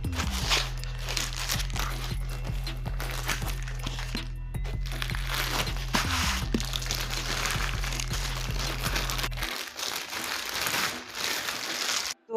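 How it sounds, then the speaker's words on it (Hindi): Plastic wrapping crinkles and crunches as it is pulled off a Zebronics Zeb Knockout Bluetooth speaker, a steady rustle running under a thumping music beat for most of the stretch before the beat drops out. "लेते हैं स्पीकर को पन्नी से बाहर"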